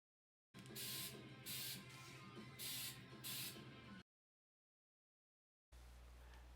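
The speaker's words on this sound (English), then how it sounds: "My intent is to spray some Flex Seal on the bottom of the post" Flex Seal aerosol sealant sprays onto the bottom of a wood post, hissing in several short bursts, close and loud, then stops into silence before a low hum returns.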